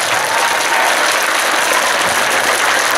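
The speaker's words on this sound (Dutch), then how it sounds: "applaus voor deze Floris." Loud, dense applause from a school crowd saying farewell to a departing teacher during a King's Games day, a continuous roar of clapping that stays level throughout.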